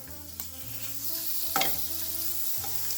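Shrimp sizzle in avocado oil in a skillet, a loud, close hiss with bursts of spatter and the clatter of stirring, while a low hum runs underneath.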